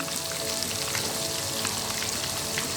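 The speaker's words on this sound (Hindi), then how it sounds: "ये मैंने जो प्याज की पेस्ट बनाई थी वो डाल दी" Onion paste fries in a pan with a dense, even sizzle, close and moderately quiet, without voices.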